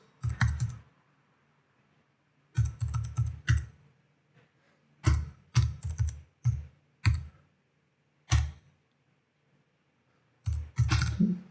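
Short bursts of close, crisp keystrokes on a computer keyboard as a file name is typed, with several quick clusters of clicks separated by silent pauses and no talk.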